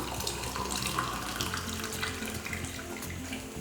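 Lukewarm water pours steadily into puttu rice flour in a bowl, a continuous close splashing trickle with no talk.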